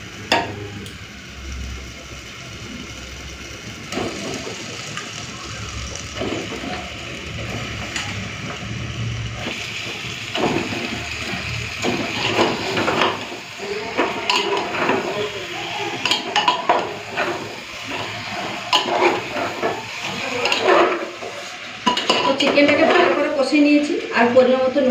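Chicken pieces go into a pan of garlic and masala being fried for chicken kosha, with metal utensil clatter and stirring scrapes that grow busier and louder over time, under occasional talk.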